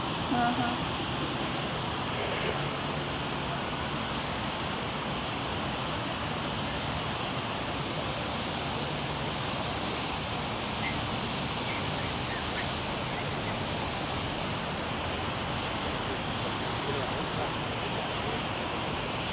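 Steady broadband rush of falling water at the Water Wall in Houston, a continuous even roar through the whole stretch with faint voices mixed in the background.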